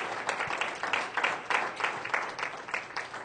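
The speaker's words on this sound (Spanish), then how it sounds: "vamos a dar un fuerte aplauso al Señor" A church congregation standing in worship gives a strong round of applause, many hands clapping in uneven surges and swells from a moderate distance, with no speech on top.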